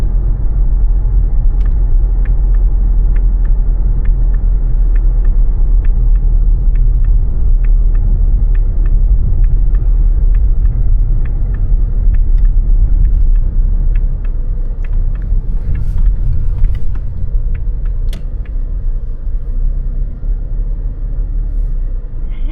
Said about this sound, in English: Oh yeah, this is not a bad car at all